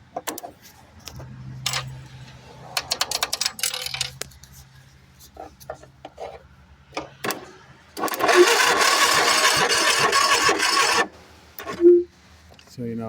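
An engine with no fuel hooked up turns over on a weak, nearly dead battery without firing. A sustained cranking whir lasts about three seconds, after scattered clicks, rattles and some talking.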